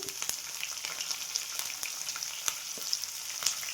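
Garlic and green chilies fry in oil in a pan for vegetable upma, giving a steady, fairly close sizzle with scattered small pops and crackles throughout, no voices.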